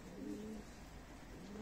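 Pigeons in a Turkish fancier's flock coo softly, a low repeated burbling that rises, pauses, then returns, heard at moderate distance with no talk.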